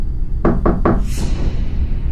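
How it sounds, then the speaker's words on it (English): Three quick, sharp knocks on a window sound close and loud in a quiet room, followed by a soft airy swish. "there was a set of knocks on my window"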